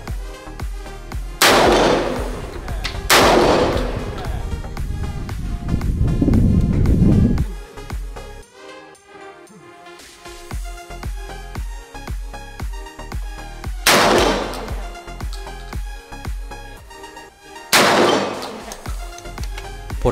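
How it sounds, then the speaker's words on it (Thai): A shotgun fires slug rounds at a target outdoors, several loud sharp blasts spaced seconds apart, each with a booming tail, between stretches of wind noise. "เราลองเปลี่ยนมาใช้ลูกโดดหรือสลักทำการยิงดูนะครับ"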